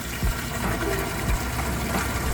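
Water runs through a Kegland beer wort chiller during a test, a steady loud gushing flow with a low pump-like rumble, continuous and with no talk.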